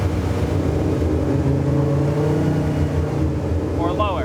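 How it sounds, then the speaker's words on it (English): A tuned turbocharged car engine holds a steady mid-pitched drone and climbs as the revs rise, heard up close with a voice talking over it. "then I can set different RPMs to get it to rev higher"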